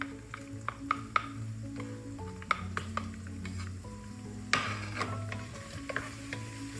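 Garlic sautés in a pan over medium-high heat, with a steady close sizzle and frequent scrapes and clinks as a utensil stirs against the metal.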